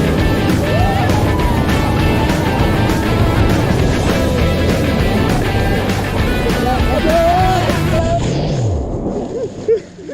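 A jet ski engine running on Lake Inawashiro, a continuous loud motor drone with water sloshing around it, people talking over it before the engine sound cuts away near the end.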